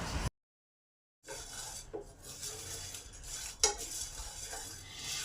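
Rice and lentils dry-roast in a pan, with a gritty scraping and rattling as they are stirred, close and steady after a brief silent break, with no talking.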